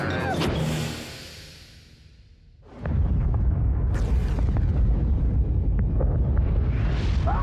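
A cartoon spaceship's self-destruct detonation: after a quiet, windy lull, a sudden loud boom erupts and rolls into a sustained, roaring rumble with crackling debris that fills the rest of the moment.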